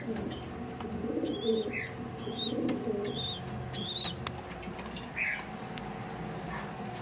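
Racing pigeons coo in a crowded loft at a pigeon market, low soft cooing notes repeating under steady background chatter, with a few brighter bird chirps and occasional distant dog-like sounds.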